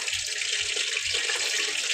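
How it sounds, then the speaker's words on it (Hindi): Hot oil crackles and hisses steadily in a pressure cooker with a little leftover water inside, a close, loud, continuous sizzle with soft low knocks underneath. "इसमें तेल डल चुका है, थोड़ा पानी रह गया था कुकर में तो आवाज़ ऐसी हो रही है"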